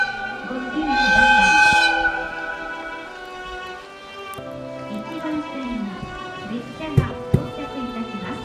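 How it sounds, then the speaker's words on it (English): A rapid airport train bound for New Chitose Airport runs through a Hokkaido blizzard, its steady rumble and horn tones rising and falling, with a few sharp clanks near the end. "Rapid airport train for New Chitose Airport"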